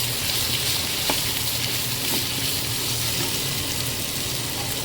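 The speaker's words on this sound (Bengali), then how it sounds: "ভালোভাবে তেলের সাথে নাড়িয়ে নেব" Potatoes fry and sizzle in hot oil as they are stirred, a steady dense crackle with occasional scraping knocks from the spoon, close and continuous with no talking.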